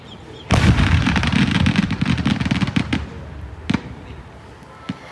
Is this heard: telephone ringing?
no